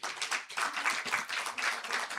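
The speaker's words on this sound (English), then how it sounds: "Let's give them a round of applause." Audience applause greets young children called up to perform at a sickle cell disease conference, a steady, fairly quiet wash of hand claps lasting the whole stretch with no voices over it.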